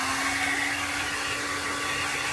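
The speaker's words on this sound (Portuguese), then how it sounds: "agora a gente vai secar ele com o secador" A hair dryer blows steadily and loudly while drying a dog after its bath, with an unbroken whirring hum and airy rush close by and no voices.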